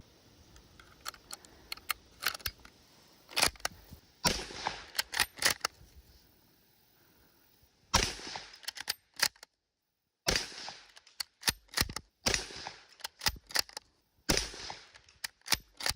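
Carcano short rifle gunfire in the Red Dead Redemption 2 video game, sharp single shots in bursts with brief mechanical clicks between, separated by silent pauses.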